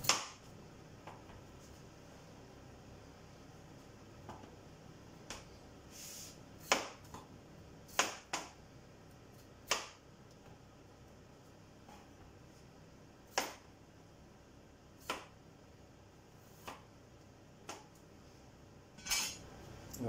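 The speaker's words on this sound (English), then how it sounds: "once the potatoes are peeled, I'm going to cut them into 1 centimetre slices." A knife cuts peeled potatoes into thick slices on a board, giving faint, sparse, irregular taps and clicks spread over a quiet kitchen background.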